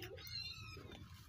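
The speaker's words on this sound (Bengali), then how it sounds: "আর বিড়ালের বাচ্চার শব্দ পাবেন," Kittens mewing at home with a brief, faint high cry rising over a low steady background hum.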